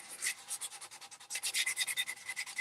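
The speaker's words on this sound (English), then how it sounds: "Take your sandpaper and go over that spot." Sandpaper rubbed back and forth over a small bubble of paint on an edge, a close, steady run of quick scratchy strokes with no talk.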